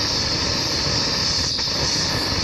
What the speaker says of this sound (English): The worst blowtorch ever. It is so gentle.